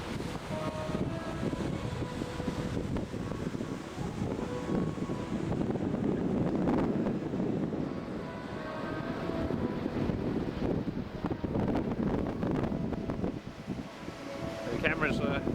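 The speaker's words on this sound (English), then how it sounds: "it's a very windy World Trade Center" Strong wind buffets the microphone at the World Trade Center in New York, a steady roaring rumble with gusty swells lasting throughout, loud and close, with faint background noise underneath.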